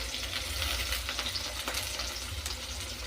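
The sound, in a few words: onion frying in a pan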